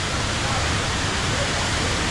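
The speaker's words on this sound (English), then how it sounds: "I'm really surprised, I mean mesmerized by how the water is going down." Rain Vortex, the tall indoor waterfall at Jewel Changi Airport, heard as a loud, broad, unbroken roar of falling water that stays constant throughout.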